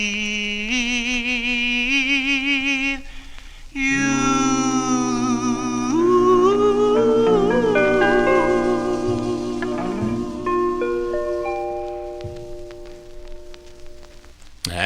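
A 1954 Decca vocal-group record plays loud and continuous, with harmonized voices held over backing instruments and a closing sung phrase near the end.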